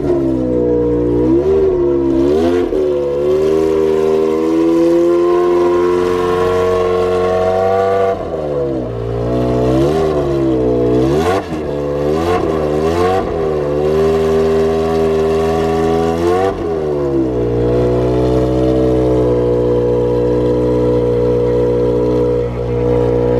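Loud car engine with the exhaust valves open, revving repeatedly in strong surging waves over a deep, steady idle rumble, close by and alone.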